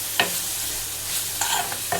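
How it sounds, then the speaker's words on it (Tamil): Cluster beans are stir-fried with chilli powder in a pan: a constant soft sizzle close up, punctuated by a few sharp scraping strokes of the spoon against the metal. "கொஞ்சமாக குழம்பு மிளகாய்த்தூள் சேர்த்துட்டாச்சு. நல்லா ஒரு பரட்டி வச்சுக்கலாம்."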